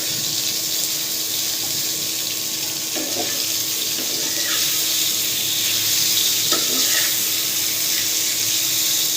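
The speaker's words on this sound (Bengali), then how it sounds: "পটল ভাজতেছি" Sliced pointed gourd (potol) coated in salt, turmeric and chili powder fries in oil in a pan, a steady loud hiss and sizzle with a few soft clinks, no one talking.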